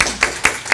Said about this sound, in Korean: 축하하는 마음으로 박수 한번 하겠습니다